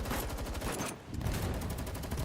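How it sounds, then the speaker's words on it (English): Dense, rapid gunfire in the GFL2: Exilium video game, a loud continuous fusillade of overlapping shots with a brief lull in the middle before the barrage resumes. "You hear the gunshots out there?"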